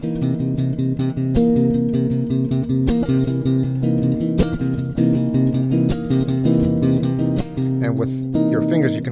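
Fingerstyle guitar in a 16th-note feel with backbeats, sounding as a steady, loud stream of plucked notes and sustained chord tones with regular percussive accents and no pauses.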